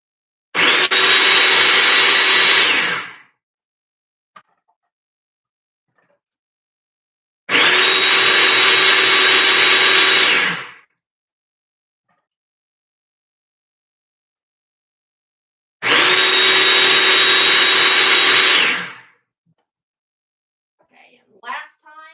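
Three loud bursts of a food processor pulsing almond flour, powdered sugar and salt, each whirring roughly three seconds with long silent gaps between, close up and alone.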